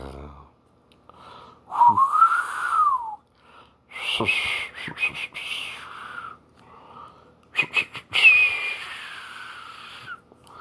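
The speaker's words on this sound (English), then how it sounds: "Just some of the whistling a little bit." Someone whistles a wavering tune in short phrases, breathy and fairly close, with pauses and soft breaths between the notes and no other sound around it.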